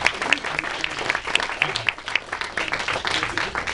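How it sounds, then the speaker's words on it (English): A live audience at a voice acting panel claps in a steady round of applause, with scattered whoops and voices mixed into the clapping throughout. "Give another round of applause"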